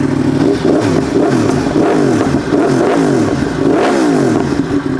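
A Yamaha R1 motorcycle with an extended swingarm revs loudly and repeatedly up close, sharp rising and falling bursts of raw exhaust noise in quick succession over a constant rumble.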